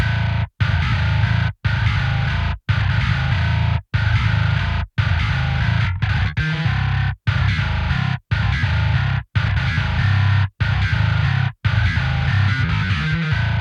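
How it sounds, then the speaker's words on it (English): A gritty, distorted electric bass tone from a virtual bass plugin plays a repeated riff, chunky phrases separated by short regular breaks, loud and close. "you get a bass tone that sounds something like this"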